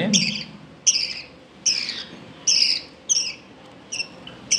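Repeated high chirps from a budgerigar being hand-fed, about six calls spaced roughly a second apart, close and fairly loud over a faint background.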